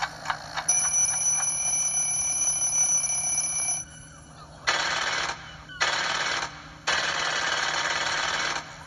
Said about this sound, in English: They don't even wake up to the sound of the alarm clock.